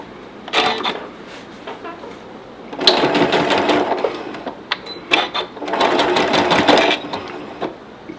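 A sewing machine stitches magnet backings onto leaders, running in two loud sustained bursts of rapid mechanical chatter separated by brief pauses and scattered clicks, with no talking.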